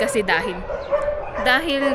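Dog barking and yipping somewhere outdoors in Nepal at dusk, a few short tonal barks over steady background noise, with a person talking at the same time.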